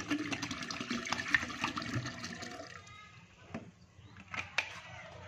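Liquid is poured into 50 liters of clean water while making alkaline water for chicken drinking, a splashing gurgle that tapers off midway, followed by a few faint knocks and a brief voice.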